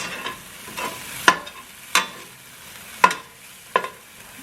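Onions and peppers sautéing in a pan: a gentle sizzle broken by four or five distinct, close scraping strokes of a utensil at uneven intervals, with no voices.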